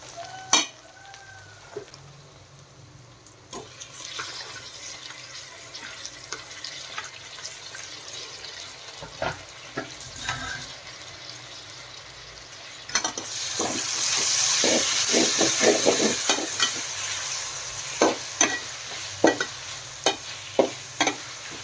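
Tomatoes sautéed with green chillies and stirred in a pan for mutton and potato curry, giving a steady sizzle with scraping spoon strokes and a louder, brighter frying burst partway through.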